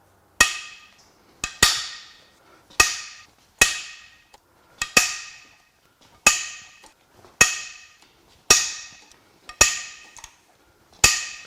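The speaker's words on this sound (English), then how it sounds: "Let's go ahead and crack the head bolts loose." Sharp, loud cracks from head bolts being broken loose on a BMW N63 twin-turbo V8 engine, about a dozen evenly spaced metallic snaps, each ringing briefly before the next, close and with no talking.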